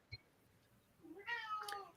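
A cat meows once nearby, a drawn-out, rising and falling cry following a quiet moment with a faint knock, heard alone without speech.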